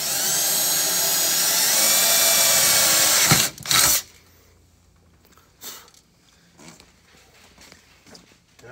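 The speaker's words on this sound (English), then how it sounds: "drill two holes where those grooves are with our quarter inch drill bit" A drill with a quarter inch bit bores holes into a tunnel box for mounting on a sled, a loud, steady high whine for over three seconds ending in a brief final burst, then fading to quiet handling sounds.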